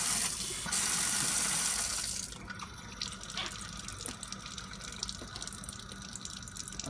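Water rushes loudly from a lab faucet through an aspirator for about two seconds, then drops to a softer steady trickle and drip with occasional faint clinks.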